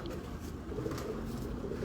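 A pigeon coos softly at a distance, a low muffled murmur under steady background noise, with faint speech present.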